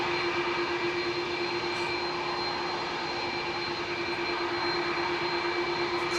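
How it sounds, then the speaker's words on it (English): Jumbo jet engines, Pratt & Whitney or CF6 types, roar steadily at Heathrow Airport, a constant loud rushing drone with a sustained high whine on top and no talking. "That sounds like a jumbo jet"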